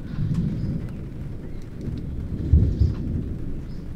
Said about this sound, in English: Oh, and it's thundering as well.